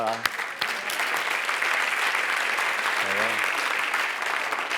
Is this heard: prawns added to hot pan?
no